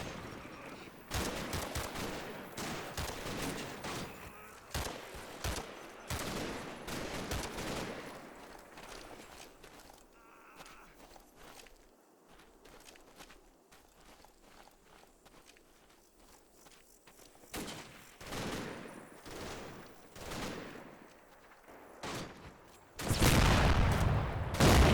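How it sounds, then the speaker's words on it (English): Artillery barrage and gunfire from the WWII wargame Combat Mission, Operation Epsom: bursts of shots and dull booms come in irregular clusters, thinning out in the middle and swelling into a loud, dense volley at the end. "A light barrage falls on my blue line, causing fatalities in some of the casualties that have been left behind."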